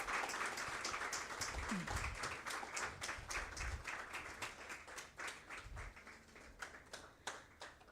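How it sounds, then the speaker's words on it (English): Audience applause at an open session on civil services interview preparation, a steady dense patter of many hands clapping throughout, gradually thinning toward the end. "let's have a huge round of applause for LC Patnaik sir"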